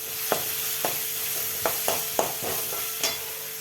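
Ginger garlic paste and onion sauté in a pan with a constant sizzle, punctuated by about seven distinct spatula knocks and scrapes at an uneven pace, close and clear with no talking.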